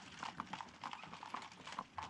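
Horse hooves clip-clop in a steady, rhythmic walking gait through a Western film scene, each hoof strike crisp and fairly close over a busy background.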